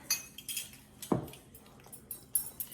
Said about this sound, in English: So now we're gonna Mix the wet ingredients with the dry ingredients